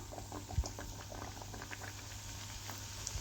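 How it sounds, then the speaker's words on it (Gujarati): Wheat flour puris deep-frying in hot oil, a soft continuous bubbling and crackle heard close up and fairly quiet, with no talking. "અને આવી રીતે બધી પૂરીને તળી લઈશું"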